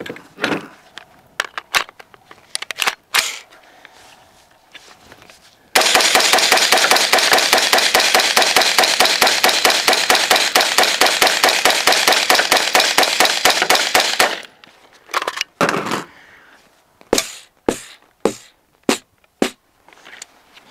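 An AR rifle fires rapidly as magazines are emptied, starting with scattered sharp shots, then a long unbroken string of fast, evenly spaced cracks, then more spaced shots, all loud and close.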